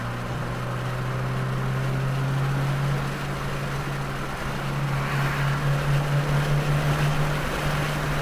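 A 2022 Subaru WRX engine droning steadily at full throttle on the Waterford Hills race track, a loud, continuous in-car roar with a sustained low tone and no talking.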